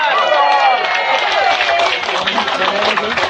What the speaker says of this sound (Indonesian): Tepuk tangan buat Sungai Bahar